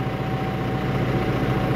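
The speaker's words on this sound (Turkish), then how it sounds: "Traktörü, romorku oraya yerleştirecek arkadaşımız" A tractor hitched to a trailer idles in a farm field, a steady low diesel rumble with an even mechanical throb that holds at constant volume throughout, with no voices.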